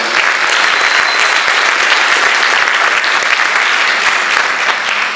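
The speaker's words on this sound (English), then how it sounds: "Can we have a round of applause for that one?" Audience applause at a jazz camp performance, dense and steady, a loud crowd clapping continuously with no gaps for over five seconds.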